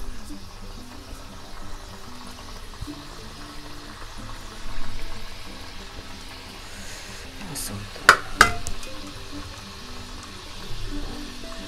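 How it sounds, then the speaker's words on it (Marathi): Shankarpali dough pieces dropped into hot oil in a home kitchen pan, a soft steady sizzle and bubbling with a couple of sharp utensil clinks, while someone talks over it. "आता मी ह्याच्यामध्ये शंकरपाळ्या घालते."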